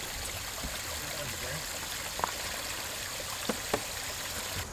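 Water from a small backyard pond waterfall trickles and pours steadily, a constant broad wash with a few faint clicks and splashes over the top.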